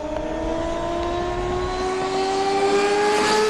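A CART racing car runs on a rain-soaked track at Monterrey, its engine a steady high whine rising slowly in pitch, heard from a distance with a faint hiss of spray and no voices.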